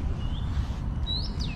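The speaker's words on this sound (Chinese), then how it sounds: "很多小鸟在叫" Small birds chirp in a botanic garden, a few thin high calls rising over a steady outdoor rumble of distant background noise.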